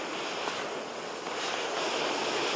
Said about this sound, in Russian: Ветер такой сегодня прям сильнейший, я бы сказала.